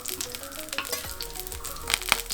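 Adai dosa frying on a pan with ghee or sesame oil, a close, continuous crackling sizzle with small popping bursts.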